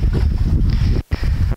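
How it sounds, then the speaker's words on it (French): A light outdoor breeze buffets the microphone in loud, low rumbling gusts that cut out briefly twice before swelling again, with no speech. "il y a un petit peu de vent, une petite brise là"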